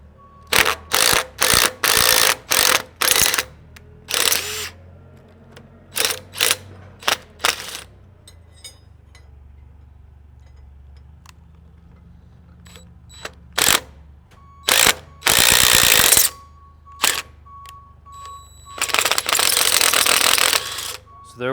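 Threads being tapped into stud holes of a shoe sole, heard as repeated short bursts of mechanical ratcheting and whirring, close and clear, separated by pauses and quiet handling.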